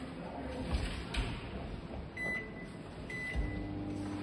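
A Haier 25-litre convection microwave started on defrost, with a few short button beeps and clicks over a low background hum.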